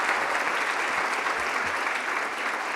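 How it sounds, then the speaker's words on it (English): Dense, steady audience applause at the close of a symposium panel on strengthening regional production facilities, a sustained wash of many hands clapping at an even level throughout. "I ask you to give an applause for all of them."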